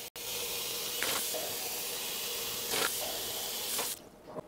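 Warm water runs from a tap in a steady, loud hissing stream, with a few brief splashing changes, then cuts off near the end.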